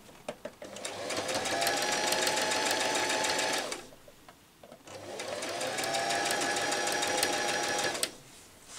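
A sewing machine backstitches elastic onto ankara fabric, running in two steady whirring bursts of about three and a half seconds each, separated by a short pause, close and alone.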